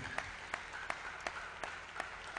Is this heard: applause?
yes